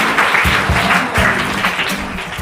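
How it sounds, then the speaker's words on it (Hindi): Steady applause from a quiz show studio audience, a dense wash of clapping that holds throughout without any speech. "जोरदार तालियां हो जाए।"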